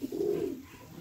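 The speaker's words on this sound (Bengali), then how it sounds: "প্রচুর ছটপটে পায়রা" A restless, wing-clipped pigeon at the Konnagar bird market lets out a single low rolling coo early on, then trails off into a quiet background hush.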